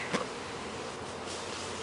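A steady, dense buzzing of many honeybees at an open hive with a honey super and frames fills the clip, with one brief sharper buzz near the start as a bee passes close.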